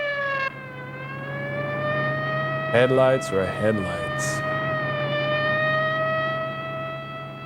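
A loud, long wailing siren from an old film holds a steady rising and falling tone for several seconds, and someone briefly talks over it partway through.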